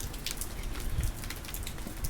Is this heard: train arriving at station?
no